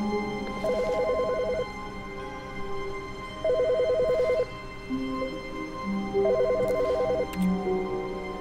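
Telephone ringing in the video game The Stanley Parable, three repeated trilling ring bursts spaced a few seconds apart over a steady droning game ambience, fairly loud and with no talk.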